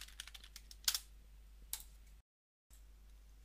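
Typing on a computer keyboard to rename a unit in simulation software, a run of quiet, uneven key clicks with a couple of sharper taps, then a short silent gap.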